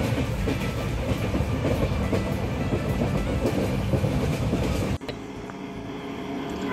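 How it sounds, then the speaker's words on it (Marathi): A passenger train runs along a Konkan route with a steady loud rumble and rhythmic clickety-clack heard from inside a carriage. After an abrupt cut, the noise turns quieter. "आपली ट्रेन आता थांबली आहे."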